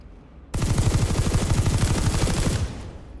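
SMG fire in Planetside 2 comes as one sustained burst of rapid, evenly spaced shots lasting about two seconds. The burst is loud and close and ends abruptly, with no talk over it.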